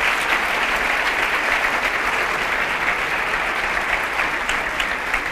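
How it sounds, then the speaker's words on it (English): An audience at an award ceremony claps in a dense, steady round of applause that carries on evenly for the whole stretch, loud and close, with no voices over it. "please give another round of applause to Moma"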